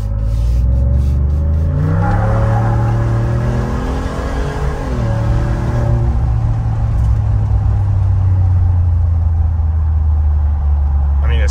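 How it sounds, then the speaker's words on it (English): A 2021 Ford F-150 with a JB4 tune accelerates hard, its exhaust droning loud and close with a rising engine note that climbs, dips at a shift, then settles into a steady rumble. "here's a little acceleration exhaust clip."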